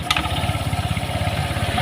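A Honda Vario 125 LED scooter idles close by, its CVT housing now running smoothly; the engine gives a steady, even low putter throughout.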